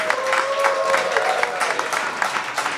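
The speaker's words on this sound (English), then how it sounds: "I think we should give a round of applause for Josh" Round of applause for Josh Koepplinger, SPHL hockey player named Warrior Player of the Week: a fairly loud, continuous patter of crowd clapping, with a voice briefly audible underneath.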